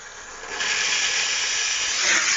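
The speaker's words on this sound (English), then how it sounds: "I like this steam because it disinfects everything" Steam cleaner hissing steadily while cleaning the interior of a neglected 2008 Honda CR-V, a continuous broadband hiss that gets louder after the first half second and stays close and constant, with no talking.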